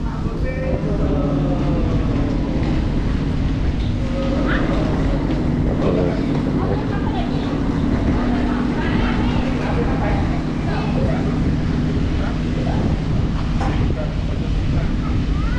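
A large passenger ferry, the Mariner Wake 3, bound for Tanjung Pinang from Johor, gives off a steady, loud engine drone and rumble throughout while people talk nearby.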